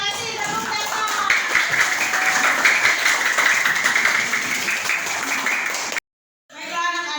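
A class of schoolchildren claps their hands together in a lively, sustained burst, with children's voices mixed in. The clapping cuts off abruptly and is followed by a brief silence and more voices.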